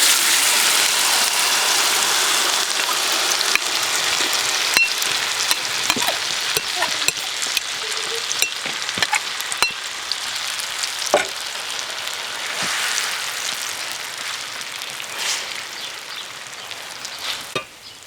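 Omelette eggs sizzle and crackle loudly in butter in a hot pan, a steady hiss broken by occasional clicks and scrapes of a utensil.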